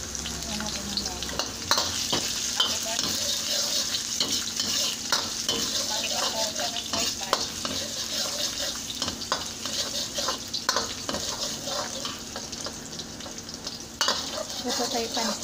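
Garlic sizzles and crackles steadily in a hot pan while being stirred, with occasional scraping of the utensil, loud and close without talk.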